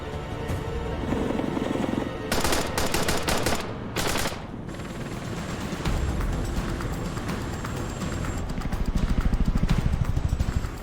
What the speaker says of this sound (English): Despite Taliban gunfire